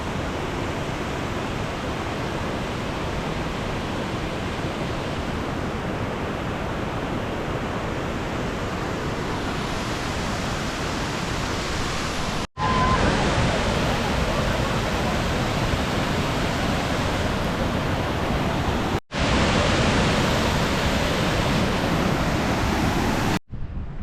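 Waterfall in Bosnia and Herzegovina, a continuous broad roar of rushing water, steady and fairly loud throughout, with a few abrupt cuts where the recording jumps.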